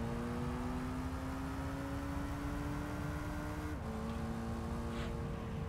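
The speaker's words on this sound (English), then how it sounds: "once my car's straight, I full throttle" A car in the Gran Turismo 3 racing game accelerates at full throttle, its engine note climbing steadily in one long rising whine, then dropping briefly at a gear shift before climbing again, loud and alone.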